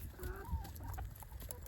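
Backyard farm hens cluck excitedly over scattered popcorn, making quick, faint, overlapping clucks and short calls nearby.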